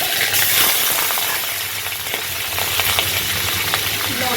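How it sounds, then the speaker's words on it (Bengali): Prawns hit a very hot wok and sizzle hard, a dense continuous crackle of frying with light scraping stirs running throughout, close and loud with no voices. "কড়া গরম, চিংড়ি মাছটা দিয়ে দেবো"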